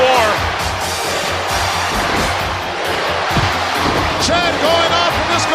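A capacity crowd chanting and whooping in a WWF No Mercy Legends mod match between Bam Bam Bigelow and Hulk Hogan, a steady roar of voices with scattered yells and thuds.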